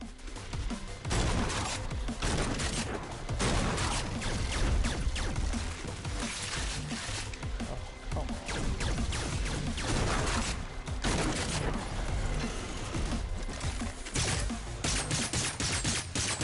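Sustained bursts of rapid gunfire from the video game Agents of Mayhem, loud and dense throughout, with overlapping shots and explosions in a chaotic boss fight.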